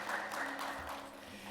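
Welcoming applause from a church congregation during a Sunday worship service, soft and distant, a low steady patter of clapping in a reverberant sanctuary.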